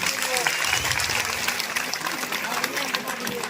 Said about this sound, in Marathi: आणि एकदा जोरदार महाराजांसाठी टाळ्या झाल्या पाहिजे